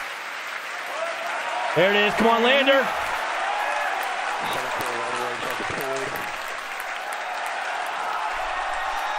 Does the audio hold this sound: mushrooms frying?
no